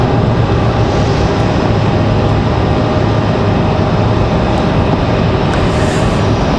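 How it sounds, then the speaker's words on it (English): A Boeing 737 MAX 8 airliner inbound from Dallas Fort Worth on final approach into Raleigh-Durham International gives a steady, loud broadband roar that holds unbroken from start to finish. "So we got that MAX 8 on final here from Dallas Fort Worth"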